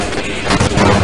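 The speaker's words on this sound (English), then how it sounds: "Oh jeez, they're throwing grenades?" A grenade explodes in the first-person shooter Half-Life, a single loud, close blast with a rumbling, crackling burst that fills the moment.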